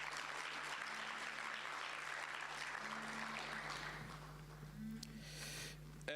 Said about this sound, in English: Can we be serious in showering them with a big round of applause?